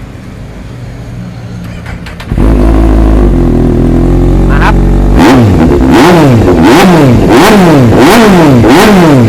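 A fully modified 2016 Kawasaki Z800 motorcycle with about 18,000 km idles loudly and close, then is revved in a quick rhythmic series of six or so sharp, roaring blips. A brief voice is heard at the start.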